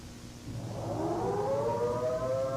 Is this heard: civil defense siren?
yes